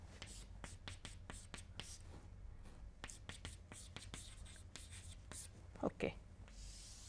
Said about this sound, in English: So, I will just write it here.